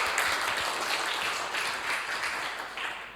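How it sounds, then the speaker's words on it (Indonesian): Students in a classroom at an Indonesian teacher-training session give a round of applause, a steady, moderately loud patter of clapping hands lasting a few seconds. "Kita berikan aplaus dulu atas semangatnya kalian."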